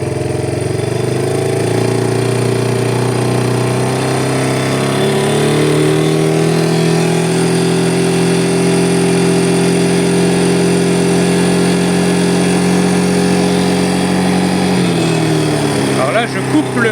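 A Yamaha Breeze 125 quad starts up and settles into a loud, steady idle, its engine chugging close and unbroken for several seconds, with the tone shifting slightly near the end.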